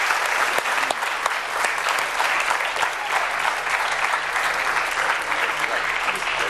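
Steady, dense applause from a large audience welcoming actor Javed Sheikh onto a stage, sustained and even throughout with a faint voice mixed in.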